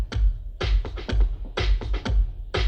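A kick drum sample triggered live on an Elektron Octatrack thumps in a repeating groove, deep close hits with lighter clicky percussion between them, loud and steady with no talking.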